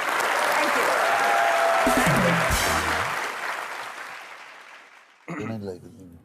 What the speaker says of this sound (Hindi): एक बार जोरदार तालियां पूनम जी के लिए